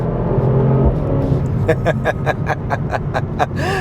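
A Mercedes-AMG car engine rumbles low, then rises into a quick series of sharp revs, pulsing rhythmically near the microphone before a final whining rev.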